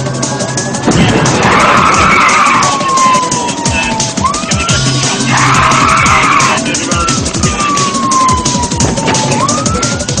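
Police cars chase a fleeing car on a UK motorway, with a wailing siren sweeping up and down and tyres screeching in long skids over the engine roar, loud and close.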